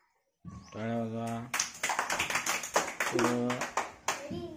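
Hands clap in a children's clapping game, a rapid run of sharp claps between stretches of voices chanting or calling out, fairly close and loud.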